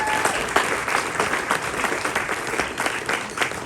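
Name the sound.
audience applause welcoming a storyteller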